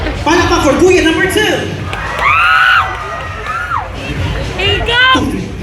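A crowd at a countdown concert at Alona Kew Resort in Panglao, Bohol, cheers and shouts loudly for contestant number 2, with whoops and excited voices rising in bursts over steady crowd noise.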